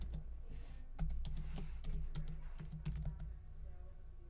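Rapid, irregular keystrokes tap on a computer keyboard as a password is entered at a command-line prompt, fairly close and moderately quiet, with no talking.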